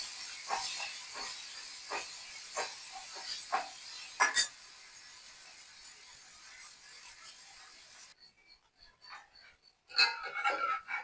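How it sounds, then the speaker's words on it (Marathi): Cumin seeds and masala sizzle in hot oil for a mixed masoor and moong dal curry, giving a steady, close hiss with scattered crackles that quiets partway through before brief louder bursts. "जिरं चांग चांगलं तडतडून दिलं की मसाला टाकून देते"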